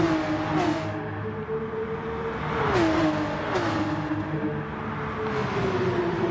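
Porsche Cup race cars in a sim racing game, engines rising and falling through gear changes as several cars battle across a mountain section, a continuous loud whine with repeated upshift drops.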